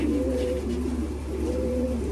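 Racing pigeons coo steadily and close by, their soft rolling calls repeating in overlapping phrases over a constant low hum, with no talking.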